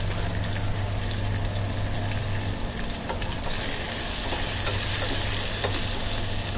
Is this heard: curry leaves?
yes